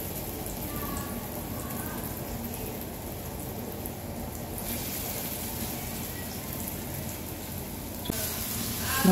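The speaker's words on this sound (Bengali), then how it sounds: "বড়াটা ভেজে নেব আমি।" Vada fritters fry in hot oil with a steady, dense sizzle that holds evenly throughout, close up, ending with a slight clatter.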